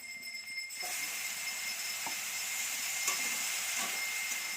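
Cumin seeds sizzling in hot oil in a home kitchen, a steady bright hiss that starts abruptly and holds, fairly quiet, with a few faint clinks.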